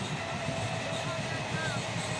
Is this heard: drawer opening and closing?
no